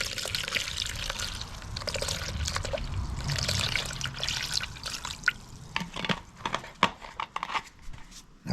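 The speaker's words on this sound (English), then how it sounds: "Pour in the vinegar." Vinegar pours steadily into an old jug with a continuous trickling, splashing flow, then breaks into a few drips and clinks toward the end.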